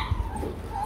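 Rottweiler puppies give short whimpering yips, close and fairly faint, over a soft steady background hum.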